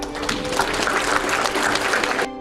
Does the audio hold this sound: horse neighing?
no